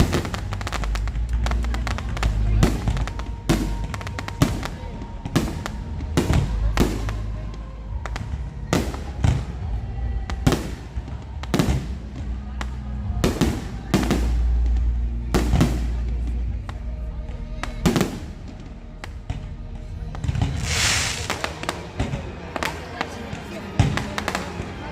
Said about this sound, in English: SeaWorld comes through with a pretty terrific fireworks show